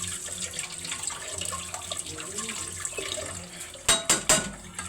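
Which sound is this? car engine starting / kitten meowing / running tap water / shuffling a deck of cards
running tap water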